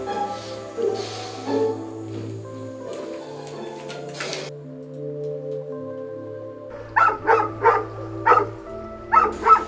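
A dog barks in a quick run of sharp yips near the end, after quieter tonal sounds and a steady low hum of an air conditioner at night.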